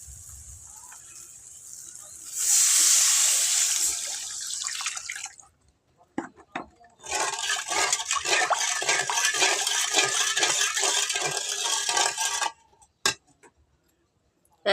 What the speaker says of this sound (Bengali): এর মধ্যে পানি দিয়ে দেব পরিমাণ মতো।